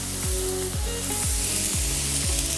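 Mackerel fillets sear on the hot plate of an AGA range cooker, a loud continuous sizzle with a regular series of low thumps running beneath it, no voices.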